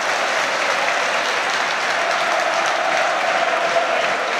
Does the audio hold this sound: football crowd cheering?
yes